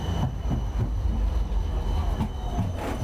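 Low, steady rumble of a tram rolling past close by, with faint metallic squeals and no talking.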